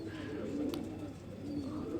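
Pigeons in a breeding loft give soft, low repeated coos that rise and fall over a murmuring background, fairly close and continuous.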